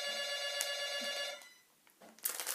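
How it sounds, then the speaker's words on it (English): A home telephone rings loudly with a steady electronic bell tone for about a second and a half, then stops briefly before another burst of ringing begins near the end. "Sorry about the phone."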